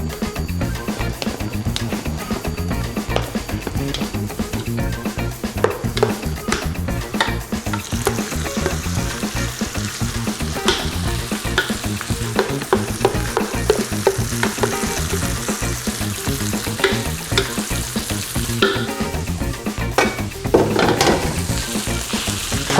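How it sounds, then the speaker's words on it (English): Bubble and squeak frying in an oiled pan over high heat, a steady loud sizzle and crackle running throughout with occasional scrapes and stirring clatter against the pan. "We're gonna chuck this all back into the same frying pan."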